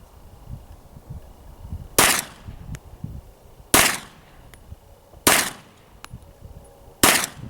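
Four sharp, loud 9mm shots from an XDm 5.25-inch pistol crack out at an outdoor shooting range, spaced roughly two seconds apart, with quieter range noise and faint distant shots in between.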